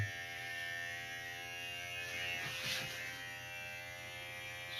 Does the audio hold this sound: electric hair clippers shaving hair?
yes